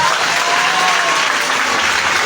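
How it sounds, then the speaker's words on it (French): A church congregation claps steadily, dense and loud applause filling the space without a break, with a faint voice just audible beneath. "je veux des acclamations pour Jean-Baptiste"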